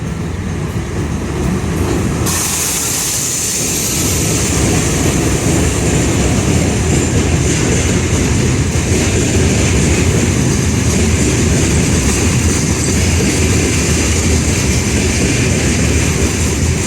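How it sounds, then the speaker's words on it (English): A long, loud freight train rolls past Mukachevo station in Ukraine, a steady heavy rumble and rattle of wagons that swells after a few seconds and holds on continuously, close by with no voices. "This is one of the very loud and long freight trains passing Mukachev station"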